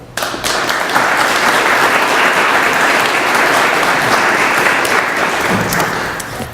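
Sustained, loud applause from the audience at a Veterans Day ceremony welcoming a speaker to the stage, steady clapping for several seconds before it thins out.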